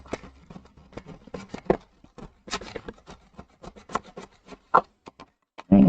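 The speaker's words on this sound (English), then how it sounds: "right now we're just kind of scraping off all of that salt" Scraping salt off an old thrift store piece, a series of irregular rasping and rubbing strokes of varying strength, close and fairly loud, with a few heavier scrapes near the end.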